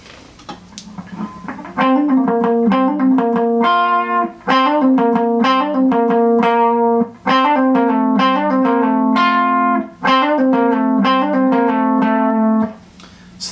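An electric guitar plays a short repeating chorus hook, clean and sustained, with brief pauses between each pass of the riff.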